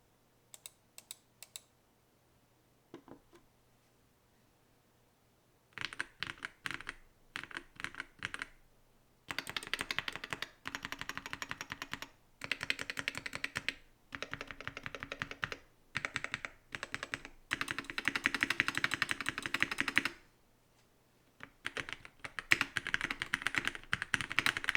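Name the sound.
typing on Infius Mobius MB-78 foam-packed mechanical keyboard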